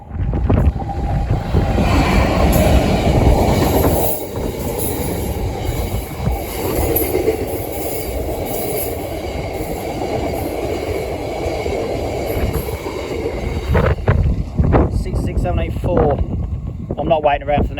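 Heritage locomotive 66784 of the Keighley and Worth Valley Railway rumbles loudly past a level crossing in wet weather, wheels rattling and squealing over the rails amid wind noise, with a voice briefly heard.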